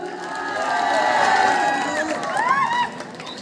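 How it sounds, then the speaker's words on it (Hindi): A crowd at an under-19 boys' zonal chess tournament prize distribution claps and cheers loudly, with children's whoops and shouts rising above the applause before it tapers off. "बेटा जोरदार तालियां"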